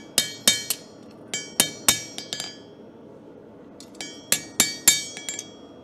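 A blacksmith hammers a blade to straighten it, giving sharp, ringing metallic clinks in quick groups of two and three with short pauses between, close and clear with no talking.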